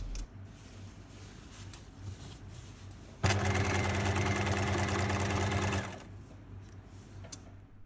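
A sewing machine stitches a straight seam in fabric, running in one steady burst of about two and a half seconds with a fast even whirring rhythm, close and clear after a quiet start.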